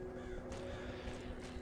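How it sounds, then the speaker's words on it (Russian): Crows caw in the zombie survival game The Walking Zombie 2, a few faint, harsh calls rising over a steady low game ambience. "Птички."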